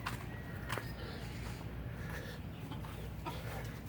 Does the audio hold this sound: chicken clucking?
yes